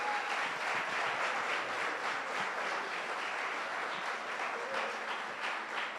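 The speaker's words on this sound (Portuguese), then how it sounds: "Aplauda ao Senhor." A church congregation at a youth service applauding, a soft, steady blur of many hands clapping together, somewhat distant and even in level throughout.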